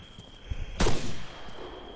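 Gunfire in the video game Arma 3 Altis Life: one sharp, fairly loud shot with a short rumbling tail, preceded by a faint thud, heard alone without voices.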